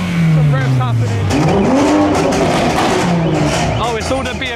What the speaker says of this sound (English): Some revs happening.